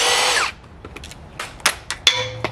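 Power tool works on the timing tensioner of a Subaru FB25 engine during a teardown: a loud half-second whirring burst, then scattered metallic clicks and taps close by.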